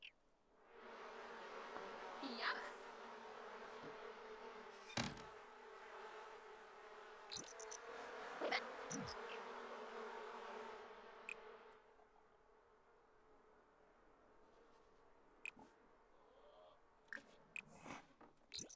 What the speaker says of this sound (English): Oh, the bees are irritated.